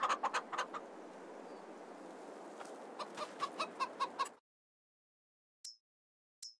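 Chickens in Farming Simulator 22 cluck in a busy, continuous run for about four seconds, with a steady bed of clucking under rhythmic louder calls; after a pause, two short separate clucks follow.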